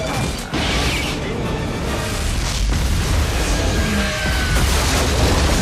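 A massive military bombing explosion tears through Madison Square Garden, a loud, sustained roaring rumble with crashing debris and grinding, creaking destruction layered over it, no letup across the whole stretch.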